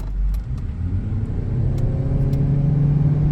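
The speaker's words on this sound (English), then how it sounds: "Engine and electric motor working together." A Ford C-Max SE hybrid accelerates hard with its engine and electric motor working together, a loud close rumble and drone that steadily climbs in pitch, with light road noise and no talk.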